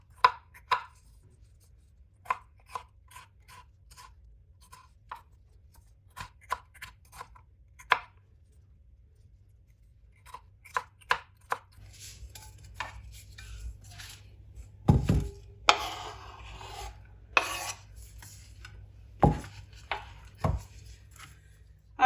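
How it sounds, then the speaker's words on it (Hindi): A tomato being cut with a knife on a board, scattered crisp chops that turn into a denser cluster of firmer knocks later on, close and fairly quiet with no talking. "एक टमाटर ले लेंगे, इसकी भी कटिंग कर लेंगे"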